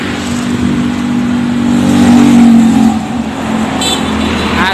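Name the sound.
Hiba Putra bus passing on the road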